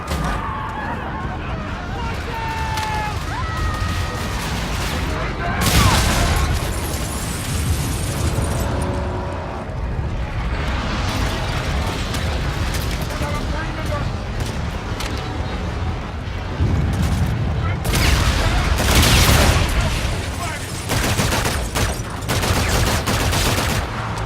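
Grenade blasts and gunfire in the Call of Duty Infinite Warfare campaign, loud booming explosions and bursts of shooting layered with game music and combat shouts, voices talking throughout.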